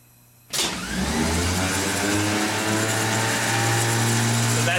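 Starter motor spinning on an alternator and starter test stand at 12 volts, drawing about 180 amps, kicks in abruptly after a moment of quiet and holds a loud, steady whirring whine.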